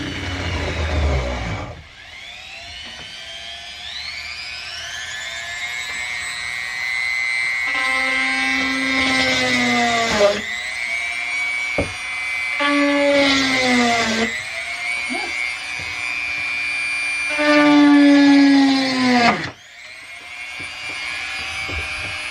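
A Wen 23114 rotary tool runs at low speed with a steady high-pitched whine that shifts in pitch several times as the speed changes. It stays loud and close with brief dips between runs.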